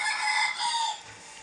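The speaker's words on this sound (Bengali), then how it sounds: "এটা মোরগ আর 3টা মুরগি" A rooster crows loudly and close in one drawn-out, strained call that fades into a quieter tail, with no talk.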